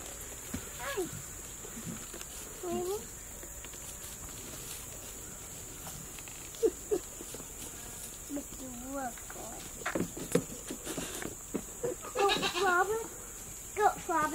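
Goats bleating on a farm, several short wavering bleats scattered across the scene at close to moderate range, interspersed with quiet stretches, soft footsteps and a person talking to the animals.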